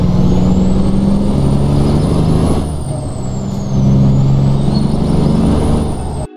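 A truck engine from a truck video game sound pack drones steadily with a rising and falling whine, dipping in the middle and hissing with an air brake release, with no talk.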